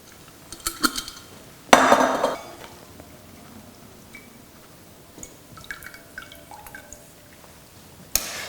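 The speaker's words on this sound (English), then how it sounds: "So you literally just strain off the shiitakes." Shiitake broth is strained in a kitchen, with light drips and trickling liquid, a clink of utensils or a pot, and a sharp knock near the end, all fairly close and quiet.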